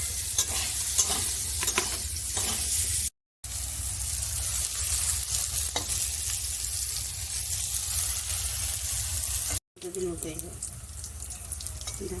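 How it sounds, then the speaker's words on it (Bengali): Lentil cakes (dhoka) frying in plenty of oil in a pan, a steady dense sizzle with stirring scrapes running throughout, close and continuous, broken by two brief dropouts. "একটু তেল বেশি দিয়ে লাল লাল করে ভাজতে হবে"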